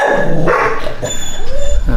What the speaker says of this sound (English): I guess we woke up the dogs.